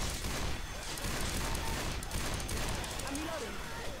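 Rapid gunfire from a Left 4 Dead 2 zombie-shooter match, a dense continuous barrage of shots filling the whole moment, with a voice speaking over the din.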